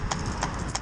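A traditional cob horse's hooves clip-clop while it is driven, three crisp, evenly spaced hoofbeats over a low rumble of movement.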